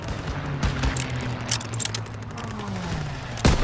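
Scattered gunfire in a Call of Duty WW2 campaign battle at a stronghold, a few sharp shots and bursts over a busy battle bed, with voices talking over it.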